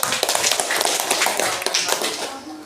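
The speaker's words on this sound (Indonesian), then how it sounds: "Cukup, tepuk tangan dulu untuk kelompok 1." Classroom of students clapping for a student group after its presentation, a dense run of overlapping hand claps with sharp taps throughout, fairly near and steady.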